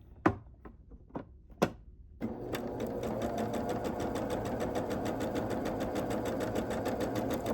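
A sewing machine stitches pieces of a quilt block, starting after a few sharp handling clicks and then running as a steady, rapid mechanical chatter up close.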